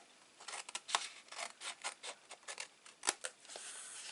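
Scissors snipping and trimming card while making a gift stationery box, flaps removed and ends mitred; a quiet, irregular run of short crisp cuts and rustles, close up and with no talk.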